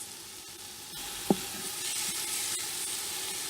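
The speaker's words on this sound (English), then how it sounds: "So that's onion, garlic, and tomato paste. Saute that" Onion, garlic and tomato paste sizzle in a Power Quick Pot pressure cooker on sauté, a steady frying hiss that swells after the first second, with a brief stirring clunk.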